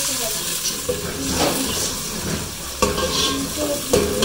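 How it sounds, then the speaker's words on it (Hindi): Garlic sautéing in hot oil with onions and cumin in a home kitchen pan, a steady sizzle and hiss with stirring scrapes and a couple of spoon knocks, close and continuous. "इसको अच्छे से भून लेंगे।"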